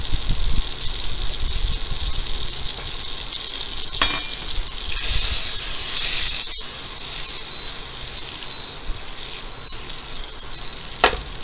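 Pieces of fish for blackened fish frying in a pan, a loud continuous sizzle and hiss with a few sharp clinks and louder spits, close up throughout.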